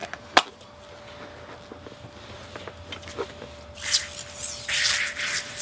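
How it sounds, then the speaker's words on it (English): Several short bursts of leather and vinyl cleaner spray hiss near the end, preceded by soft handling noises and a sharp click, with a faint steady hum throughout. "Just spray that on, work it in."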